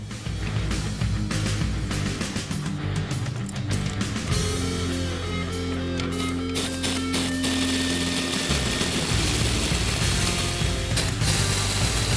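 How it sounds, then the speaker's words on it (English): A spring compressor tightens a Mustang coilover spring with repeated ratcheting clicks and mechanical grinding, close and busy, a strained hum underneath for a few seconds midway. "The first step is to compress the spring so we can take it apart."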